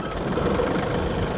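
A John Deere 3039R compact tractor with a 10-foot Rhino flex-wing mower engaged idles nearby, a steady low rumbling engine drone that stays even throughout.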